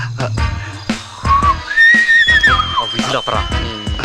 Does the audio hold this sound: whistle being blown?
yes